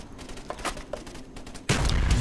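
Gunfire in a video game, shooting an enemy: a few quick scattered shots, then a dense, loud burst of rapid fire that runs to the end.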